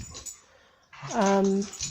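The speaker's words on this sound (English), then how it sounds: "sorry, my dogs are fighting." Dogs fighting indoors: a quiet scuffle leads into one drawn-out, high whining yelp up close, with a person speaking briefly around it.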